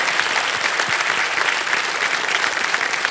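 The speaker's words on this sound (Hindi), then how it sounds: "एक बार दादी के लिए ताली बज जाए।" A studio audience on the KBC game show applauds for a contestant's grandmother, a steady, dense wash of clapping that stays loud and even throughout, with no voices rising above it.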